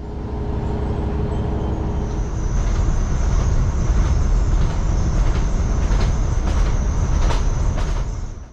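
A Transport for Wales diesel railcar runs along the Heart of Wales line near Knighton and Bucknell on the English–Welsh border, with a steady loud engine and wheel rumble, rhythmic track clicks and a faint high whine.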